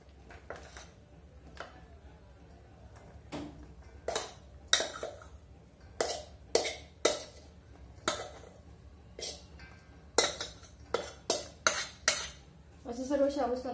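Sago pearls tipped into a bowl of grated potatoes, heard as a string of sharp, close clinks and taps against the bowl, some in quick clusters, over a low steady hum.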